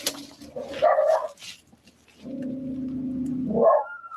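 Wild dogs bark and howl under a bridge, a few yips first and then a long drawn-out howl rising at the end, moderately loud with some echo and no talk.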